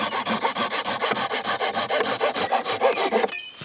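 A Glority DJS-20 folding Japanese pull saw cuts through wood in quick, even rasping strokes, about six per second, loud and close, then stops abruptly near the end.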